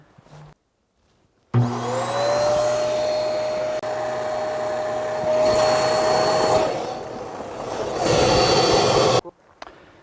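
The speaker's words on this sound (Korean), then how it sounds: "이건 역시 수동으로 바람을 넣는 게 아니라 이 트레일러 안에 있는 모터를 이용해서 텐트를 완성시킬 수가 있습니다." Built-in electric motor inside a camping trailer inflating an air tent, a steady loud whining blower hum that starts abruptly, runs for several seconds with shifts in pitch and load, then cuts off.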